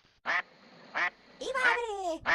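Cartoon ducks at a countryside picnic in a Sicilian-dubbed Peppa Pig episode quack in short, bright bursts, two separate calls followed by a longer, excited voice-like squawk, loud and close.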